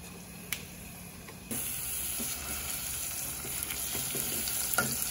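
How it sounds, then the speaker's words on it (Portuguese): Ground meat and garlic fry in a pan with a steady, close sizzle that jumps louder partway through and holds, broken by a few sharp stirring clicks and scrapes. "agora eu vou colocar a carne. Eu vou deixar fritar bem fritinho."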